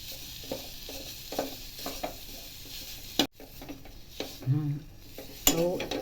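Flour mixture being stirred and roasted in a pan for sweet ghughra filling, giving soft scraping and light sizzling with intermittent spoon clinks against the metal, close and moderately quiet.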